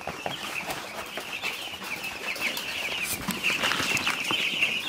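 A brooding room of 14-day-old baby chicks chirps continuously, a dense overlapping chorus of high peeps that grows slightly louder toward the end, with no talk.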